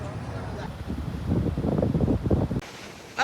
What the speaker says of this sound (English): it's still very windy here